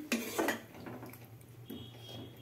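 Cooking pot covered with its lid while making potato dum, a couple of clattering metal knocks near the start, then a softer clink later over a low kitchen hum.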